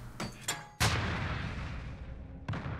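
Several sharp booms from a stun or frag grenade in a Call of Duty Modern Warfare Search and Destroy match, two quick blasts then a loud close explosion with a long rumbling tail, and another thud near the end.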